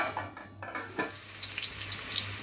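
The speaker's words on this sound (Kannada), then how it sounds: "ಈರುಳ್ಳಿ ಮತ್ತು ಅದಕ್ಕೆ ಗರಂ ಮಸಾಲೆ, ಚಕ್ಕೆ, ಲವಂಗ ಚೆನ್ನಾಗಿ ಫ್ರೈ ಆಗಬೇಕು ಫ್ರೆಂಡ್ಸ್" Onions frying in a pot with garam masala, cinnamon and cloves for chicken dum biryani, a quiet close sizzle with a few soft utensil clinks and stirring sounds.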